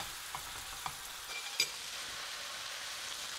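Wine sizzling and steaming off in a hot pan while cooking amatriciana: a steady, fairly quiet hiss with a few small pops and crackles throughout, no voices.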